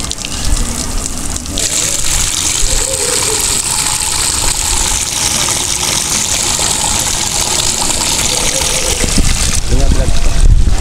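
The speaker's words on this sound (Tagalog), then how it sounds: "Okay, shower." Shower water running and spraying steadily, loud and close, with a rushing hiss that continues for the whole stretch under faint background sounds.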